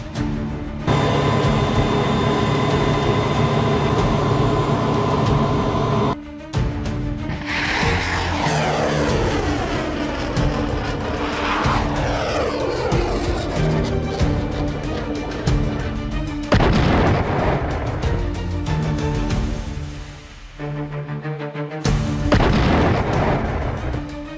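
A Russian Iskander missile launch: a loud, sustained rocket roar with shifting, sweeping tones that briefly dips near the end and then surges back.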